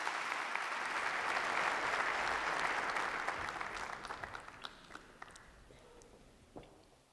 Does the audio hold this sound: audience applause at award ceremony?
yes